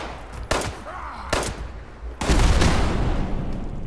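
A contact grenade explodes in Fallout 76 amid game combat: sharp blasts at about half a second and 1.3 seconds, then a heavy, sustained roaring burst from 2.2 seconds that fills the rest, loud and close.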